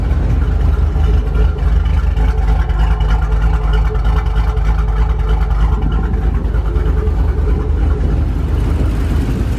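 A cammed Ford Mustang idles close by with a loud, choppy, lumpy rumble that pulses unevenly and steadily throughout, with no talking over it.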